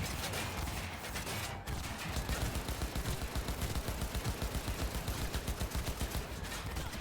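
Rapid, evenly spaced gunshots from a pistol in a first-person video game, firing in a dense, rhythmic volley that carries on almost without pause over a faint background.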